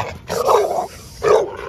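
Two loud close barks from Camelot, a nearly three-year-old female dog, sounding a warning near a Presa Canario, each burst lasting about half a second with a short pause between them.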